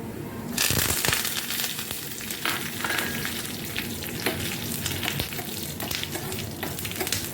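Mustard seeds, curry leaves and dried chillies hit hot oil for tempering a temple-style rasam, bursting into loud sizzling with rapid popping and crackling spatters that continue steadily close up.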